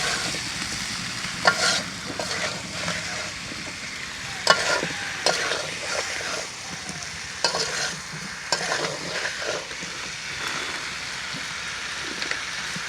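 Sweet potato curry being stir-fried with hot Indian chilli powder in a pan, a steady crackling sizzle with repeated scraping and knocking of a spatula at irregular intervals, close and alone.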